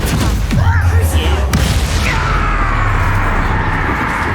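Confringo, the fiery blast curse in Hogwarts Legacy, goes off as a loud booming explosion with a burst near the start, then a rumbling decay under continuous game sound.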